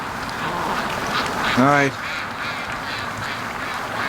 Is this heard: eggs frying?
no